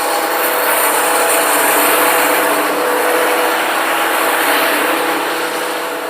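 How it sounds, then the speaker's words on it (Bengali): A 3-in-1 combined rice mill machine grinds spices with a loud, continuous mechanical roar and whine that stays steady throughout, with no voices. "এই মেশিনে চলুন আপনার মশলাগুলো কিভাবে পেশাই করানো হয়"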